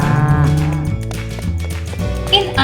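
Dairy cows in a barn on a farm that makes cheese and cream low in pitch, with one loud, drawn-out moo and further bovine lowing and shuffling close by, under narration-free farmyard noise.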